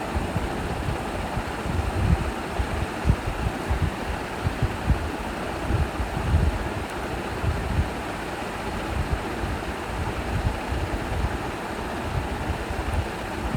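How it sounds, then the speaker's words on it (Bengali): An electric blender beats four large eggs for homemade cake batter, with sugar added bit by bit, giving a steady, dense whirring rumble that holds at an even level throughout, with no talking. "এবার সবগুলো ডিম নিয়ে ব্লেন্ড করে নিচ্ছি।"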